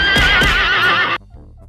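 Horse neighing in an isekai farming anime, a loud, close, wavering whinny lasting just over a second that cuts off abruptly, followed by faint soft background sounds, with no talk.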